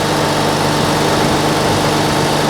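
A CLAAS Jaguar forage harvester engine runs steadily at idle, loud and close, a dense unbroken low rumble with mechanical vibration and no variation in pitch or level.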